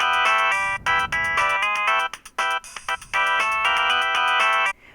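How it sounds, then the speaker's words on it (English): A Verizon Wireless phone ringtone plays as a bright, rapid electronic melody of repeated tones, loud and close, with brief gaps between phrases and no talking. "Do you guys know the super popular ringtone, the Verizon wireless ringtone?"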